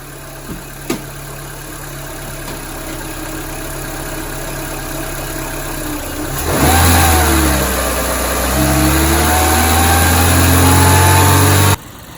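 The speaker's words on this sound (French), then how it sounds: "on va la tenir accélérée jusqu'au démarrage du ventilo" A Renault Clio 1.4 with the K4J engine runs close by, first at a steady idle, then held at raised revs with a sustained mid-pitched drone, and a cooling fan whirs in partway through.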